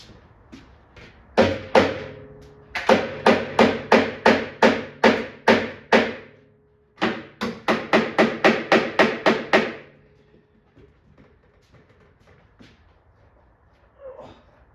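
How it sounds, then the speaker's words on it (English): Repeated hammer blows on parts of a Frontline arcade cabinet under restoration, two rapid bursts of about a dozen sharp, close strikes each, separated by a brief pause, then quiet. "Try to hammer these down a little bit."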